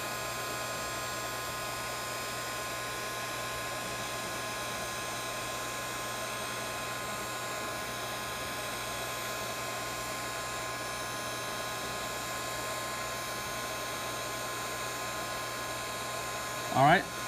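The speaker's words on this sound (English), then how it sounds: "So we add enough heat so it'll loosen the adhesive." A heat tool blows hot air onto an iPod Nano 7th generation to loosen its battery adhesive, giving a steady, even whooshing hiss with a constant hum that runs unbroken to a brief louder bump at the very end.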